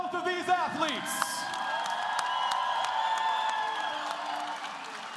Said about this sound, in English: our round of applause for both of these athletes